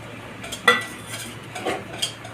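Bori lentil dumplings dropped into a cooking pot for shukto, a few light clinks and soft knocks against the metal, quiet and close with a low hum underneath.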